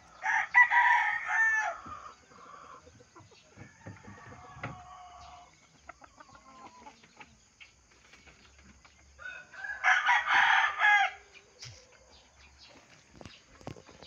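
A rooster crows loudly and close, then again later after a stretch of quieter clucking and scattered farmyard noises, with a gap between the two crows.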